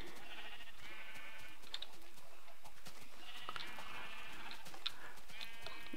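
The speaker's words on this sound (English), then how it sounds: "a sheep comes up and steps on the pressure plate" Sheep in Minecraft 1.2.3 bleat in repeated wavering calls, several overlapping, with soft game clicks and thumps underneath and no talking.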